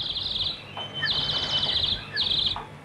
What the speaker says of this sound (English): It plays all kinds of things, everything from bird calls